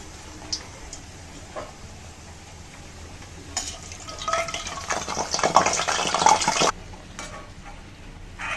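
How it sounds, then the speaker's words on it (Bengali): Luchi dropped into hot oil for frying, quiet at first and then a swelling bubbling sizzle with spattering that peaks and cuts off after a few seconds, with soft utensil taps. "দেখে তেলও গরম হয়ে গেছে। এখন আমি দিয়ে দিচ্ছি লুচি"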